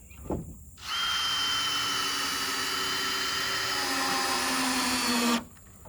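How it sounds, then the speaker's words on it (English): Power drill driving wood screws into a spine board for a livestock shed, a single continuous whirring burst of about five seconds, close and loud, its pitch sagging slightly as the screw bites, with quiet gaps before and after. "drive a number of wood screws into it"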